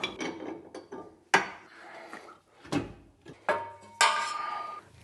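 A ratchet with an 18 mm socket works loose bolts on a Mazda BT-50 / Ford Ranger suspension, giving a few loud, separate bursts of clicking and metallic clatter with quiet gaps between them.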